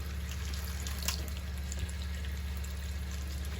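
Hot water running steadily from a motorhome tap, a constant close rushing flow with no talk over it.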